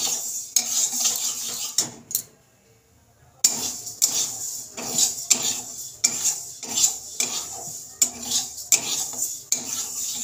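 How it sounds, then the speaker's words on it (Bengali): Repeated scraping of a spatula stirring dry lentils being roasted in a metal pan, rhythmic strokes with a short pause, close and fairly loud. "আমি এইভাবে নেড়ে ছেড়ে 2 মিনিট ডালটাকে ভেজে নেব"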